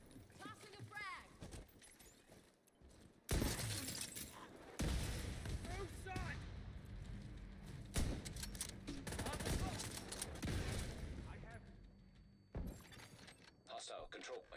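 A frag grenade going off amid heavy gunfire in The Division 2, loud blasts and bursts of shooting scattered through a noisy firefight, with voices talking over parts of it.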